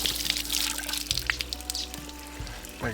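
Water splashing and dripping as a cast iron potjie pot is rinsed, close and continuous with a low hum underneath, no talking.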